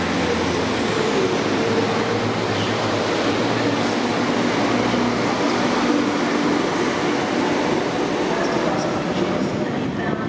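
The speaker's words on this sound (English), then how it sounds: "departing platform number 2 is 195 118 off to York" A British Rail Class 195 diesel unit, number 195 118, pulling out of Preston station for York: a loud, continuous rumble and rail roar close by, holding steady throughout, with a voice faintly underneath.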